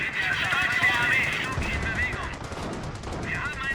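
Anti-tank guns fire in a WWII strategy game, a dense rattle of overlapping gunshots and bursts of rapid fire amid battle noise, with in-game voices shouting over the shooting.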